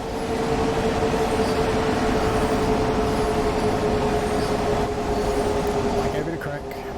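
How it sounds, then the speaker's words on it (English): A train rumbles past continuously in Train Sim World 2, a steady rolling roar with a faint whining tone, loud and near throughout. "I'm about to get whacked by a train."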